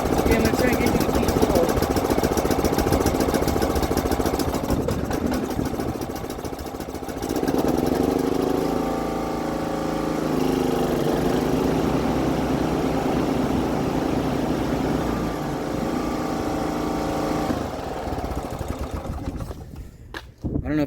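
A John Deere GX75 lawn tractor engine runs steadily near at hand, and the note and load shift partway through as the PTO mower blade engages. Talk runs over the engine for much of the clip.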